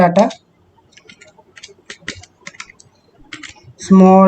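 Code being typed on a computer keyboard, a run of quick, light key clicks at an uneven pace, close by, with a voice speaking briefly at the start and end.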